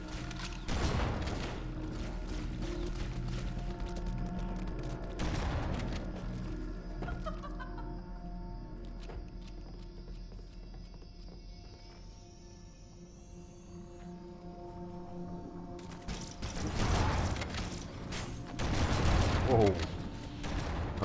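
Shotgun blasts in Halo: Combat Evolved ring out during a firefight, with loud bursts near the start and again near the end, around sustained music and other game sounds.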